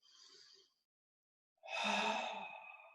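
Breathing during a yoga exercise, a short soft exhale, a silent pause, then a longer, louder breath close to the microphone.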